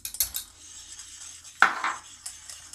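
Flour and baking powder being gently stirred for a pear cake, a few light scraping clinks of a utensil against a bowl, close and brief, with a louder stroke partway through.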